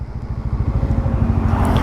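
A Bajaj Pulsar N160 motorcycle rides at around 70 to 75 km/h under front and rear braking, its engine thrumming in a steady close pulsing drone.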